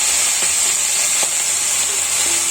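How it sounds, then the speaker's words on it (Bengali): Cumin seeds sizzle in hot oil for a Bengali tempering, a steady loud hiss with a few faint clicks of a utensil against the pan. "জিরা ফোড়ন দিয়ে আমি শুধু শুধু জিরা দিয়েছি ফোড়নে"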